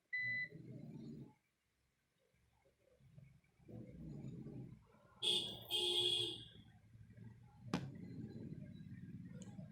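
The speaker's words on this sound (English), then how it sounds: "Like I am having a power cut right now, and thus my UPS is beeping crazy." Quiet room during a power cut with a UPS giving intermittent high electronic beeps in short bursts over low rumbling background noise, fairly faint overall.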